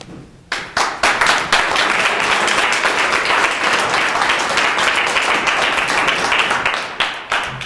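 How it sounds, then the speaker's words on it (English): An audience at a speaking event breaks into loud, sustained applause for a speaker, dense overlapping claps from many hands rising sharply and holding steady before tapering slightly at the end. "That was another round of applause for Terry."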